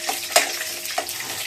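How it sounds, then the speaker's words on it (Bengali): Dried chillies, fenugreek seeds and bay leaf crackle in hot oil for a tempering, a soft continuous sizzle broken by a few sharper pops, heard close and fairly quiet with no talking. "মরিচগুলো একটু ভাজা ভাজা হোক।"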